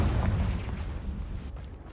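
A Confringo fire spell blast in the video game Hogwarts Legacy bursts loud and booming at the start, then rolls off into a rumbling, crackling tail, with no voices.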